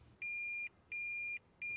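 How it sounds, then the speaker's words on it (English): Warning buzzer of a Toyota Prius sounding when the shift lever is moved into reverse, three evenly spaced, sustained electronic tones in a steady rhythm, clear and alone. "The R will begin to flash, a buzzer will sound"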